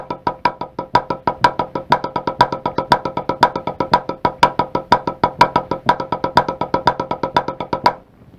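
Drums played with alternating sticking shift between triplets and 16th notes, producing a dense, even stream of crisp, close strokes at steady volume that stops abruptly near the end.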